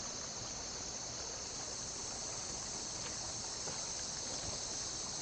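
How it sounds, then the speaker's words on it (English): A river in the Australian bush flows with a faint, steady hiss of running water, distant and even throughout, with no speech over it. "We made it to the river."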